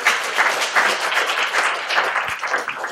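An audience applauds at a San Diego Mesa College literary event for veteran writers, with dense sustained clapping from many hands, loud and close, lasting the whole stretch.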